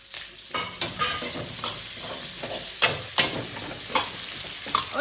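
Onions sizzle and fry for a village-style prawn curry, with steady loud hissing broken by repeated scraping stir strokes, close up and without talk.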